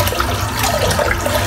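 Water runs steadily from a sink tap as a razor is rinsed after a head shave, a loud, close, continuous splashing rush with no talk.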